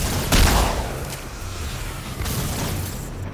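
Weapon fire in the Star Trek: Elite Force II shooter against Romulans, a burst of loud blasts near the start, then a second shot later over a steady noisy game background.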